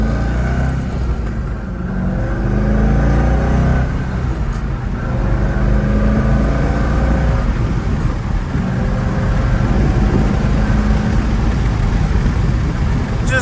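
A Chevrolet C5 Corvette engine revving lightly on the street, a deep steady rumble with mild rises in pitch, close and loud throughout with no talking.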